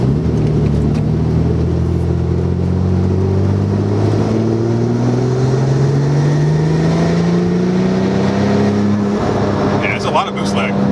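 Porsche 997 911 Turbo from 2008 with automatic gearbox under throttle, a steady loud engine drone with rising pitch as it pulls through boost lag, continuous and close, with people talking over it.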